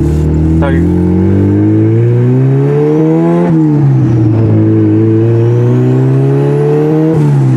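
A 270 hp turbocharged Acura Integra engine revs and accelerates loudly under boost from close by, pitch climbing steadily, dipping briefly, then rising again with a sustained strained roar.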